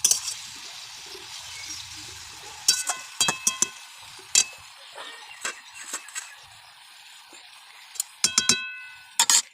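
A lid set on a cooking pan of tomato, onion greens and bean mash: a series of light metallic clinks and taps at an uneven rhythm, close and crisp against a quiet background hiss.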